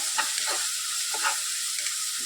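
Two dried red chillies, broken up, sizzle and crackle in hot oil in a pan while being stirred, a close, continuous fry hiss with brief scraping strokes, no talking.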